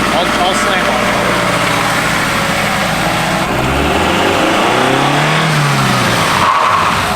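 A car with a faulty shifter brakes hard to a stop, its loud engine roar merging with a skidding tire squeal that sweeps and fades, heard close and continuous.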